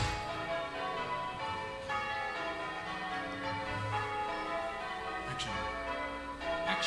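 Church bells ring continuously near a film location, a dense wash of overlapping metallic tones heard from some distance, moderately quiet and steady throughout.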